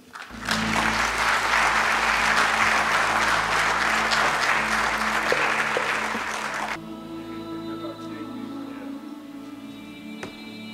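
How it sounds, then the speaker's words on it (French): Graduation ceremony audience breaks into loud, dense applause that holds steady for several seconds, then cuts down sharply to a thinner patter of scattered claps fading out. "Applaudissements encore une fois pour votre parrain"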